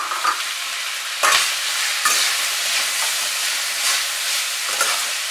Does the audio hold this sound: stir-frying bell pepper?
yes